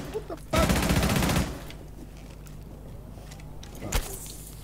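Rainbow Six Siege gunfire aimed at a camera: a loud, rapid automatic burst of close shots lasting about a second, then quiet rumble and a brief second shot. Faint voices in the background.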